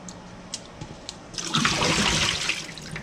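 Water starts running from a tap after a few faint clicks, a steady close splashing stream that continues to the end.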